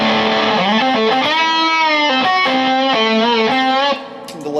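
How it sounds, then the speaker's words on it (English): Distorted, saturated electric guitar through a Six String Effects Carbonator fuzz pedal plays a sustained melodic phrase with a wash of reverb, loud and continuous, ending with a brief drop and a scratchy tail. "add a little reverb."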